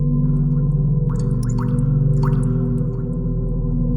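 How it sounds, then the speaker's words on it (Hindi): Water drips from a tap in a few slow, uneven plops over a loud, steady low hum. "अचानक अटैच बाथरूम से नल चलने की आवाज आई।"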